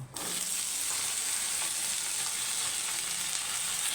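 A loud, constant sizzle of potatoes frying in hot oil starts suddenly and holds steady, with faint stirring clicks.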